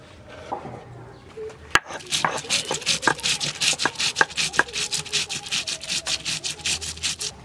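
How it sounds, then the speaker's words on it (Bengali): Cumin and coriander seeds ground on a grinding stone: a sharp knock, then a steady rhythmic back-and-forth rubbing and grating, close and fairly loud. "আজকে মাছের ঝোলটাতে বাটা জিরে ধনে দেওয়া হবে। জিরে ধনেটা তাই বেটে নেব।"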